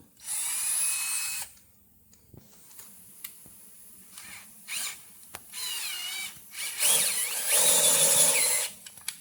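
A power drill priming the oil pump of a Chevy 350 engine whirs in several bursts, its pitch rising and falling as it labors under load, with short pauses and clicks between runs.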